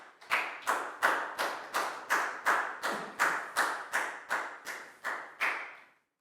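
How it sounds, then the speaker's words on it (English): A class of schoolchildren claps together in a steady rhythm, about a dozen even, fairly loud claps in quick succession, then stops. "Big round of applause for Nadia, please, guys."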